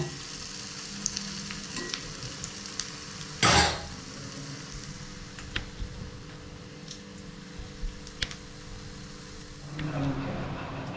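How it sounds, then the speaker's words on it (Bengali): Jackfruit pakoras frying in oil on a low flame give a steady soft sizzle, with occasional small clicks and one brief loud burst of noise partway through. "লো ফ্লেমে করে দিয়ে বড়াগুলো ভাজবেন"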